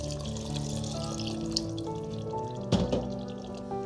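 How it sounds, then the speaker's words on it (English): Water pours steadily into a cooking pot of Ghanaian waakye stew with tomatoes, trickling and splashing, then a brief louder splash near the end, close by with no talking. "We are going to add some water"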